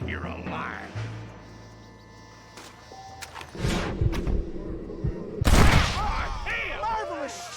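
Gunfire in the Red Dead Redemption video game: a loud close shot cracks out amid a burst of heavy impacts, following a stretch of quieter game ambience, with no talking.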